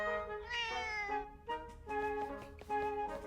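A cat meows with a drawn-out, rising cry in the video game Zelda: Echoes of Wisdom, sounding over bright, tonal game music that plays throughout.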